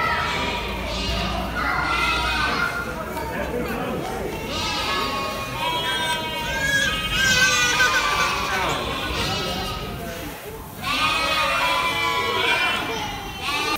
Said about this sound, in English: the goats know it's food time. Listen at them.